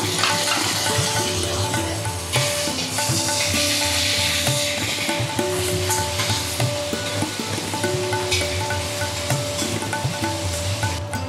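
Tomato goes into a hot pan of frying chilies for an egg and spinach curry, producing a steady sizzle with scraping stirs, under a faint background hum of steady tones.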